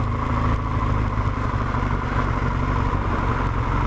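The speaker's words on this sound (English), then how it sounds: "I don't know if you could hear that engine revving" Red car engine on Hardknott Pass, a steady, moderately loud rumble running the whole time with no clear rise in revs, no talk.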